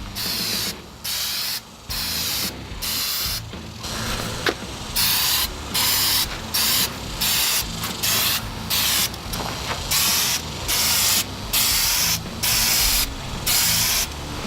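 An aerosol can sprays a light protective coat over autographs in short, loud hissing bursts, repeated rhythmically about a dozen times with brief gaps between each puff, close up with no talking.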